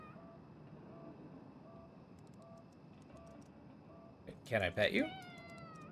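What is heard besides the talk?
cat meowing in the video game Conarium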